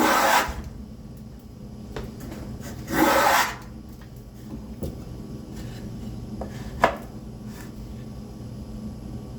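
Shavings are taken off a wooden back panel for a spice rack, heard as two short, close rasping strokes followed by a fainter scrape and small knocks in a quiet room.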